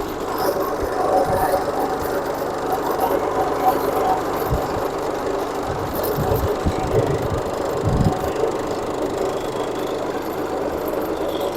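A homemade labour-saving farm vehicle runs with a steady, rattling engine drone and occasional clunks, close by, while people talk over it.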